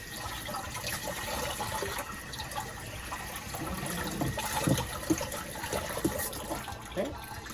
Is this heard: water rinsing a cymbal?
yes